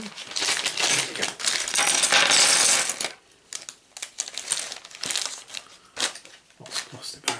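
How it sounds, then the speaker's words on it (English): Plastic bags from a Star Wars Legion miniatures box crinkle and rustle loudly up close for a few seconds, then give way to scattered clicks, rattles and handling noises of plastic pieces. "Lots of plastic bags."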